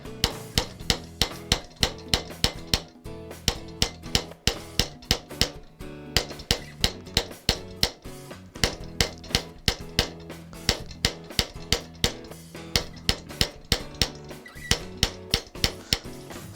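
A hammer strikes a metal concave bracelet on a stake, a close, steady run of sharp ringing metallic blows, several per second, with a few short pauses.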